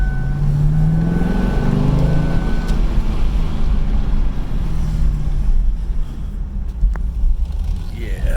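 A 2010 Chevy Camaro 1SS/RS with a manual gearbox drives along, its engine and road noise a steady loud low rumble throughout, with a brief spoken word near the start.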